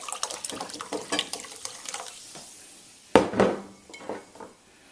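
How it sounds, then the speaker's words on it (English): A short splash of soda water pouring into a ginger beer drink in a glass, close and clear, after a few seconds of light clinking and handling sounds. "Some soda water, so you're going to give it that nice bubbly kick."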